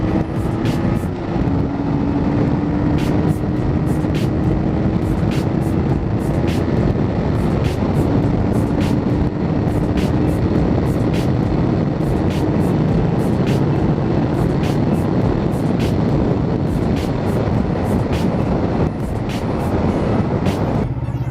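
A used Kawasaki Ninja 500R motorcycle climbing a hill: steady engine drone rising in pitch through each gear, with brief dips at the shifts, heard from the rider's position with wind noise throughout.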